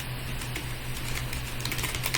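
Steady run of computer keyboard typing as an organization name is entered into a search box, close and continuous over a faint low hum, with no talking.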